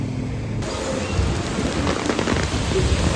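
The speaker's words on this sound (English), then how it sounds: "Nobody wants to be out in the rain." Steady, heavy rain pours onto a street in Monrovia, Liberia, a dense continuous hiss throughout with no voices.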